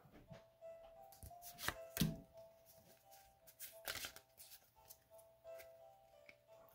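Pokémon trading cards from an Arceus collection box shuffled together by hand, a quiet run of crisp flicking riffles and taps at close range, with a couple of sharper snaps.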